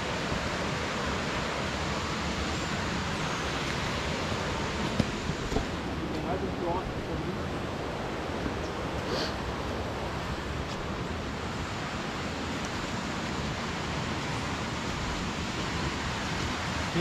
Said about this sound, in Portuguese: Ó, a cachoeira dele lá em cima.